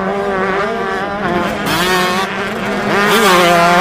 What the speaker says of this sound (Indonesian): ini adalah motor cross.